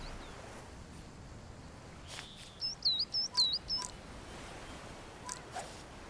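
In the video game Alba: A Wildlife Adventure, a small bird gives a quick burst of four or five high chirps against a faint outdoor background, with soft camera-shutter clicks around it.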